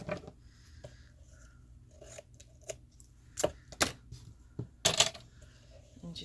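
Scissors snip tape on a ring binder spine in a handful of short, sharp cuts spaced irregularly, close and fairly quiet against a soft background.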